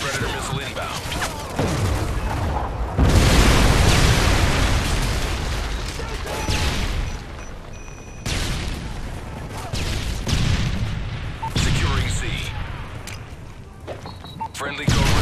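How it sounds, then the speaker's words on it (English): Heavy, sustained rumbling blasts from a predator missile strike in a Call of Duty multiplayer match on the Dome map, loud and dense with overlapping booms, debris and gunfire mixed in. "Friendly predator missile inbound."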